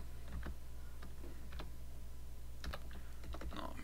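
A password is tapped out on a computer keyboard in a series of quick, close clicks grouped in short bursts over a steady hum.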